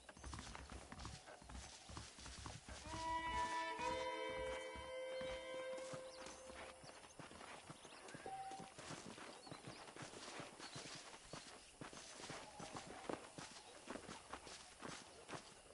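In Red Dead Redemption, horses' hooves clip-clop steadily at a walk and trot, close and continuous, with a neigh, a soft melodic music cue and a voice speaking at times.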